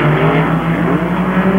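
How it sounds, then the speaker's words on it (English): Race cars from a 1974 IROC race at Daytona accelerate out onto the banking in the draft, a loud sustained engine roar with rising and falling tones, close and continuous, with no voice over it. "Mark as he accelerates out onto the banking and, of course, into the draft once again"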